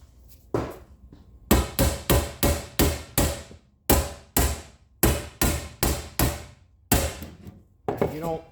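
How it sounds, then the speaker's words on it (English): Sharp, loud hammer blows strike a metal line during a gas pump restoration, landing in quick rhythmic bursts of several hits with brief pauses between groups, close and ringing. "Take a hammer."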